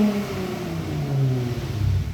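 A 2011-2014 Ford Mustang with the 3.7-liter V6 and a C&L axle-back exhaust with polished tips revs steadily, a close, continuous throaty rumble that swells and builds slightly toward the end, with no talking.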